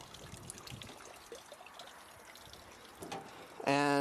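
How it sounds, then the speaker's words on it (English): Engine coolant draining out of a REO M-35 military truck, a steady low trickle and dribble of liquid running for several seconds, fairly faint, with a brief louder tonal burst near the end. "So we're draining the coolant out now,"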